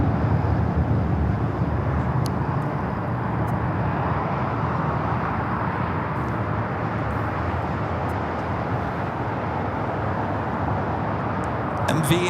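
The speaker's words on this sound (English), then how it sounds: "This is United Airlines 1464 taking off to Washington Dulles on the" A United Airlines Boeing 757-300 takes off at Los Angeles International Airport, its jet engines producing a broad, sustained roar that holds steady, heard from a distance outdoors.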